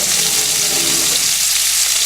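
Bacon, onions and cheese frying in a pan with a loud, steady, close sizzle that stays constant throughout.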